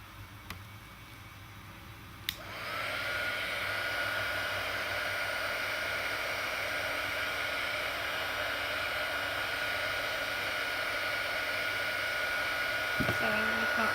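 A hair dryer blows on alcohol inks painted onto playing cards. It switches on after a couple of seconds with a click and then roars steadily and close, as a constant airy whoosh with a faint whine.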